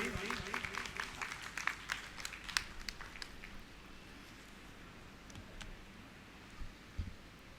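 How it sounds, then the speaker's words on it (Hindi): Applause from an audience at a Hindi-language international conference session in a hall, welcoming a speaker to the stage; scattered claps fade after a few seconds into quieter room noise, with a few later isolated sounds. "एक बार तालियों द्वारा स्वागत कर दीजिए प्लीज।"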